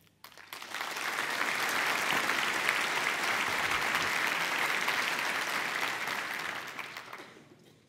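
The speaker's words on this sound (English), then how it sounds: "I would like to join me with a huge round of applause" A large conference audience claps steadily, swelling quickly to a full, sustained round of applause before tapering off at the end.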